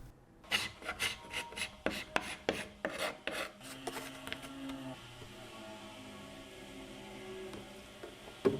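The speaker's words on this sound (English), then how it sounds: "You just use vinegar and you swab it." Repeated rasping rubs of a vinegar-soaked swab scrubbing across the painted wood of an antique sideboard, close and loud at first, then trailing off into quieter background hum.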